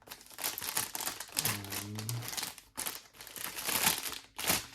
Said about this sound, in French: d'ailleurs je vais la déballer